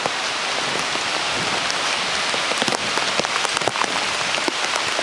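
Heavy rain from Tropical Storm Irene pours steadily onto surfaces, a loud, dense, continuous hiss with scattered sharper drops and no voices.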